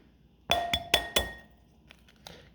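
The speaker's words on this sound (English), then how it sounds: "So let's go ahead and crack them open." A store-bought commercial egg cracked against a bowl, four quick sharp taps in a row followed by two fainter clicks, close and clear with no talking.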